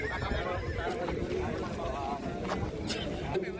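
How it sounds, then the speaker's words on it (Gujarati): At a horse show in Vankaner, Gujarat, with Marwari and Sindhi mares, a horse neighs in whinnies over the crowd's murmur, under steady talk. "તમને લાઈનના ઘોડા પણ જોવા મળશે, લાઈનની વછેરી પણ જોવા મળશે"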